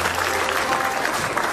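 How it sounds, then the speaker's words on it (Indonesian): Studio audience applause at an Indonesian comedy show, a short steady burst of dense clapping with some crowd noise, heard alone. "tepuk tangan dulu."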